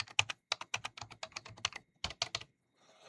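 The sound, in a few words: typing a name on a computer keyboard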